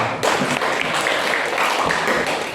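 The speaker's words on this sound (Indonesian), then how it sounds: "Tepuk tangan dulu." Students applaud in a classroom after a group discussion in a religious studies lesson, a dense, even patter of many hands clapping at moderate loudness for a couple of seconds, with no voices over it.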